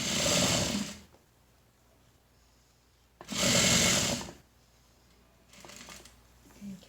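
A sewing machine back-tacks a face mask seam in two loud close bursts, about a second each, with quieter handling noise in between and a softer stitching run near the end.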